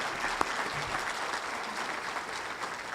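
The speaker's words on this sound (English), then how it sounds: "let's give a round of applause to Eric and the athletics department, Kim and Bruce" An audience at a school district national signing day event applauds in a steady, even wash of clapping that carries on for the whole stretch, fairly distant and moderately quiet, with no voices on top.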